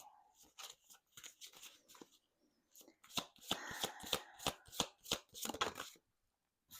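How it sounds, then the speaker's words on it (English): Astrology cards are shuffled and drawn by hand, a run of quick close riffling and snapping bursts with short pauses between, ending in silence. "Let's pull some astrology cards."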